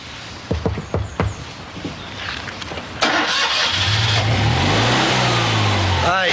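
A car engine cranks and catches after a few clunks, then revs up steadily with a rising, loud mid-pitched roar in a 1984 Brookside scene.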